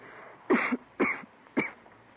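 Three harsh coughs, evenly spaced about half a second apart, close and fairly loud against a quiet background.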